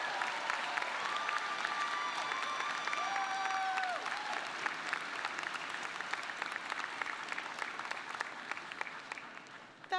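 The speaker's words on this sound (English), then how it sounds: "please give her a round of applause" A crowd applauds steadily at a baccalaureate ceremony, dense sustained clapping from an audience in a hall that fades slightly toward the end, with a few faint tonal sounds early on.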